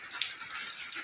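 Rain drips onto a house roof in brief, crisp ticks and taps at an irregular pace, over a faint background hiss.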